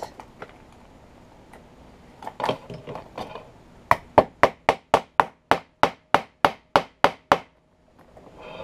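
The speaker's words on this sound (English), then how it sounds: "And then we'll pound it." Hammer pounding a piece into place during a hands-on fitting job: after a few scattered taps, a run of about fourteen sharp, evenly spaced blows rings out close and loud.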